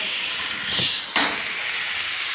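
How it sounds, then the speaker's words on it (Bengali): Beguni, battered eggplant fritters, frying in hot oil for an iftar meal, a steady, loud sizzling hiss that swells briefly as pieces go in, with no voices. "এই বেগুনি ভাজি করছি"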